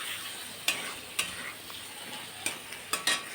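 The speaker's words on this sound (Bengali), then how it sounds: "এবার মশলার সাথে ভালো করে আলু আর টমেটো" Potatoes and tomatoes with spice paste being sautéed for a rui fish curry: a low, steady sizzle with a few sharp scrapes and clinks of a spatula stirring in the pan, fairly quiet and without talk.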